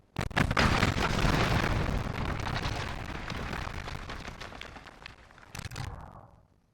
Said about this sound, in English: The bomb's going to take him out